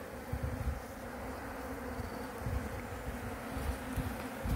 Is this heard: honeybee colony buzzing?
yes